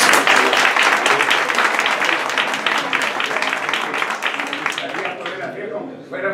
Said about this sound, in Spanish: al cual pido un aplauso, por favor